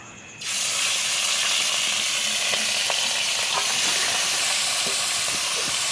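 Desi chicken pieces drop into a hot pan for Bengali chicken kosha and burst into a loud, steady sizzle that fills the scene, with faint stirring scrapes and clicks throughout.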